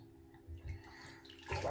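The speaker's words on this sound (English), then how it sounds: "She's got water in the jug and she's pouring the water out, putting fresh in it" Water pours from a jug into bath water holding a fizzing bath bomb, a soft short splash and trickle that ends in a louder slosh, with no talk.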